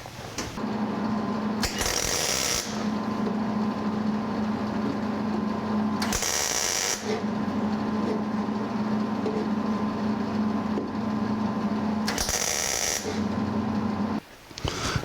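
A welder fusing nuts onto the firewall of a 1949 Chevrolet gasser gives a steady, loud buzzing crackle that runs for long stretches, broken by a few short pauses and sharp bursts.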